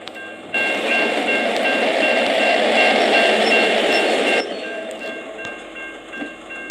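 A train rumbles loudly past a railway line in the driving game Bus Simulator 2023, set in Germany. The steady roar holds for about four seconds, then drops to a quieter continuing rumble, with no talking.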